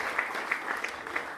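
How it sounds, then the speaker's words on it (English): Applause for the mayor at a Richmond, Virginia corporate headquarters announcement, a thin, brief patter of clapping with a few sharper individual claps standing out. "Give him a great round of applause if we could."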